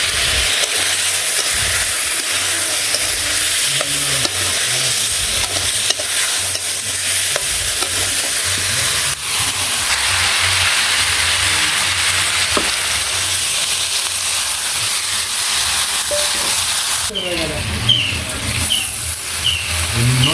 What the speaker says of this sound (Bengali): কাঁচামরিচ দিয়ে দিলাম একটু জল দিয়ে আর একটু কষিয়ে নিই